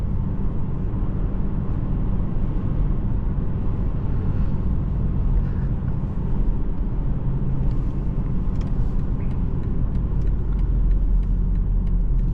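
A 2025 BMW 330i xDrive sedan runs under load while driving, its engine a steady, low, full drone blended with road and tyre noise, with no talk over it.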